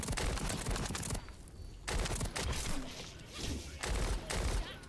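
A burst weapon fires in a video game, loud clustered volleys of gunfire broken by short gaps, dense and close.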